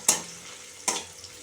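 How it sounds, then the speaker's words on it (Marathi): Onion being sautéed in a pan for a potato stir-fry, with two short scraping stirs that rise into brief sizzling bursts, close and fairly quiet, with a faint sizzle lingering between them. "कांदा आता परतून घेऊया"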